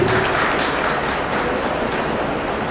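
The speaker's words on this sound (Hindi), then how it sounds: "तो आपके लिए भी जोरदार तालियां।" Audience at a literary gathering applauding steadily in a short, even burst of dense clapping, moderately loud and continuous with no talk over it.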